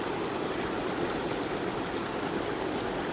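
Water tumbles down a secluded jungle waterfall in Laos, a steady dense roar holding at one level throughout, heard alone.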